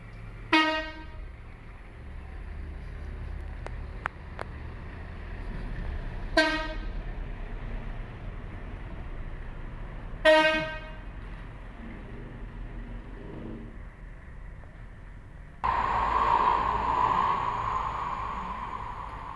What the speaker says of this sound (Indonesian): banyak bunyi trompet, klakson trompet, banyak mobil lewat di sini